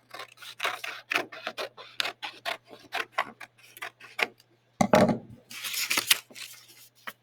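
Scissors cut a crocodile head out of paper, a string of sharp, quick snips and crisp paper rustles, close and fairly quiet in a still room.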